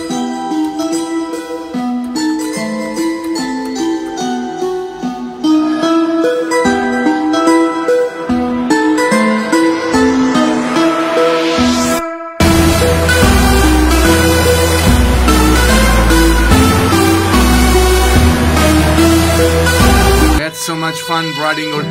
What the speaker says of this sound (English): I thought about a music box, and it sounds like this.